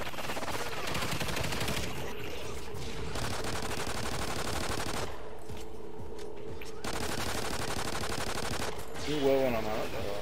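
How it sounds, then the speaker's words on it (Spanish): Video game gunfire rattles in rapid automatic bursts with clipped single shots. Pauses break up the shooting, and voices talk beneath the fairly loud, steady firing. "¿para qué le disparan si lo que hay que coger los huevos?"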